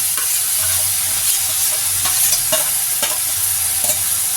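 Green chilies and tomato go into a hot frying pan and sizzle steadily, with soft scraping stirs recurring at an even pace, close and alone.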